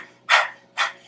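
A person imitates a dog panting with two short, breathy exhalations about half a second apart, close and clear against a quiet background.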